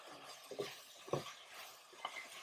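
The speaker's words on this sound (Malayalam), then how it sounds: "സാമ്പാറിന്റെ വഴറ്റലാണ് നടക്കുന്നത്." Shallots and turmeric are sautéed in a pan for Central Travancore–style sadhya sambar, with faint sizzling and a few soft stirring scrapes and clinks from a spoon against the pan, no talk.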